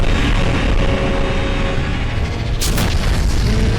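A powerful beam blast from a Skibidi Wars animation roars as a loud, sustained booming rumble with a sharp burst midway, filling the whole stretch with dense explosive noise.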